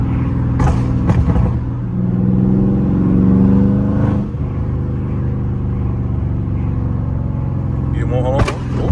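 A Dodge Scat Pack rumbles in traffic from inside the cabin, its engine and exhaust droning steadily with a rising rev and a few sharp pops, loud and close throughout.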